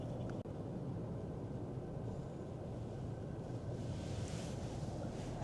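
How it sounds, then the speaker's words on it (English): Strong coastal storm wind roars steadily against a door, a dense constant rush with one sharp knock near the start and no voices. "the wind is pushing the door so hard"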